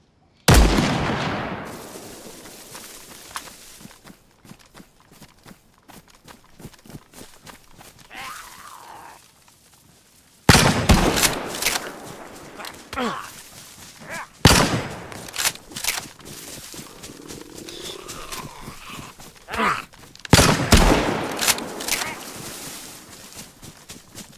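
Gunfire in the survival video game DayZ: four loud, sharp shots spaced several seconds apart, each ringing out with a long echoing tail, and faint ambient noise between them.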